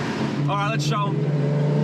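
Revving engine of an 800hp Nissan Skyline GTR R32 with a sequential transmission at a GTR festival at Hampton Downs, New Zealand, rising briefly in pitch over a steady idle drone, close by with people talking over it.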